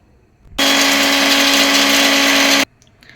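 A mixer grinder powders a spoonful of sugar in one loud, steady high whine lasting about two seconds, starting and stopping abruptly.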